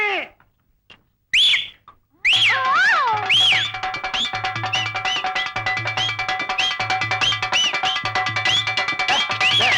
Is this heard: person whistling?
yes